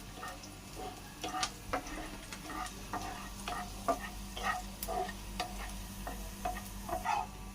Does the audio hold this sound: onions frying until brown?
yes